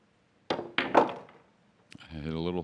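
A pool ball at a world pool championship semi-final strikes the side of the pocket, giving a couple of sharp close knocks followed by a short pause, then a commentator starts speaking.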